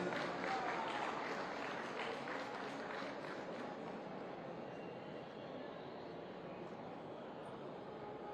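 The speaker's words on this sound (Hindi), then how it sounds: "आप सभी एक बार जोरदार तालियां" An audience claps at the inauguration of a cancer unit at Medanta Hospital in Lucknow, with a sustained wash of applause that slowly fades over several seconds.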